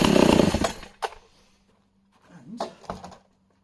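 A 1970s Husqvarna Rancher 61 chainsaw opens with a loud burst of engine noise, then drops to a low idle punctuated by short, sharp revving blips.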